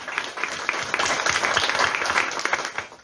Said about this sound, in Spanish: para que pido también un fuerte aplauso